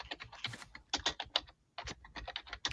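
Rapid clicking keystrokes on a computer keyboard, close and fairly loud, in uneven bursts with a brief pause near the middle, no talking.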